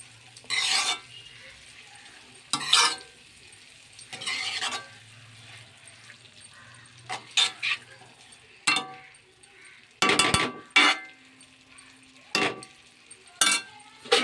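A mildly spiced curry simmers in the water released from its own vegetables inside a pan. Intermittent spoon stirring scrapes and clinks against the metal over a soft, quiet bubbling.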